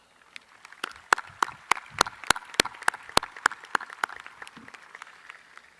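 Sparse, distinct hand claps ring out from a small graduation crowd at Porter High School, sharp and individual rather than a dense roar, thinning out toward the end.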